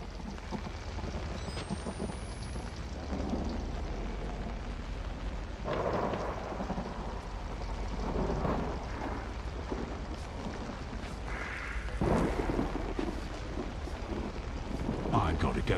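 Steady rain hisses in the Outlast video game, with deep rumbling thunder swelling at a few points, all at moderate level and close around.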